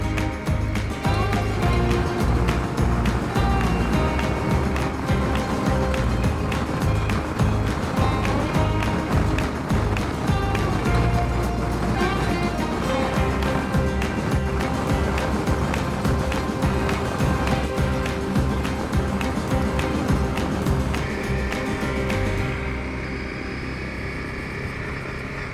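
An adventure motorbike rides through the southern Flinders Ranges near Melrose, its engine droning steadily and loudly with wind rush and a constant buzzing note throughout, easing off slightly in the final seconds.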